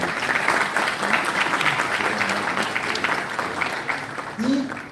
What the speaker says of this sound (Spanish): Un aplauso también para Isabel.